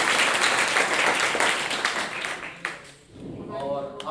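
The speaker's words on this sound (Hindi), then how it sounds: "हम अपने लिए भी एक बार तालियां बजाएंगे" An audience at an inaugural session of a certificate course claps loudly and continuously, the applause fading out near the end as a voice begins speaking.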